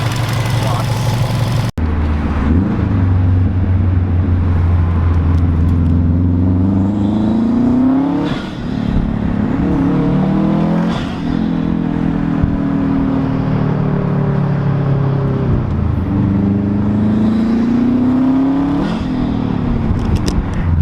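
Steady loud car engine rumble with a throaty intake roar from a COBB short ram intake that rises and falls as the revs climb repeatedly, close up.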